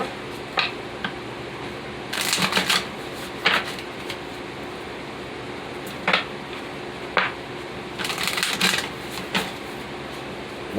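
Oracle cards are shuffled by hand in a quiet room, with intermittent soft riffling and slapping bursts between stretches of faint background hum.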